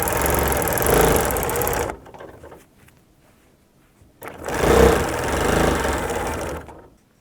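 Sewing machine quilting angular shapes through a quilt, two close bursts of fast, steady stitching separated by a pause of about two seconds with only faint handling sounds.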